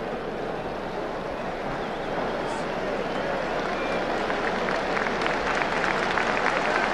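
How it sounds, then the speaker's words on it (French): A stadium crowd at Colombes applauding Hungarian footballers as they walk onto the pitch, a dense, steady wash of clapping that swells slightly, heard from a distance with a commentator's voice faintly over it. "Les footballeurs hongrois du reste qui sont applaudis, vous le voyez, par le public de Colombes à leur entrée sur le terrain."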